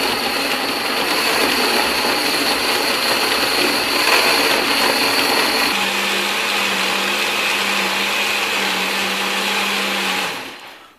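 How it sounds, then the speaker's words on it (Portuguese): A kitchen blender whirs steadily and loudly for about ten seconds while mixing homemade plant fertilizer, its pitch shifting midway before the motor winds down at the end. "Batemos aí por cerca de 1 minuto, mais ou menos, no liquidificador."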